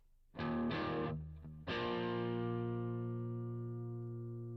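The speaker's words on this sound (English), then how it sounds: "We are using a British stack with a little bit of reverb on it" Electric guitar through a heavily driven British stack amp and 4x12 cabinet: two short chords, a brief pause, then a big sustained chord ringing out with slight reverb.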